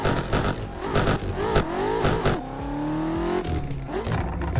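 A BMW 4x4 engine in the racing game Assetto Corsa revs hard and loud, climbing through rising pitch sweeps with abrupt gear-change breaks and a long sustained pull near the end, close and continuous.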